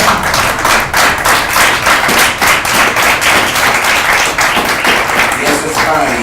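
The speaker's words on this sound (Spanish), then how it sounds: "Palmas, palmas, a ver." A church congregation claps together in a steady, loud rhythmic beat, roughly two claps per second, continuing throughout with some voices mixed in.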